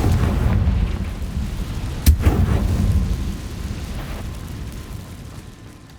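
A single sharp blast from a Confringo fire spell in the video game Hogwarts Legacy bursts out about two seconds in, then trails off into a rumbling game soundscape with no talk.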